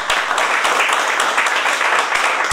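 An audience at a literary reading event claps together in a brisk, full burst of applause, loud and even throughout before cutting off abruptly at the end.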